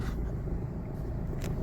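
Kia Ceed 1.6 diesel with a six-speed gearbox idling just after starting, a steady low rumbling engine note close by with a brief higher scrape near the end, no talk.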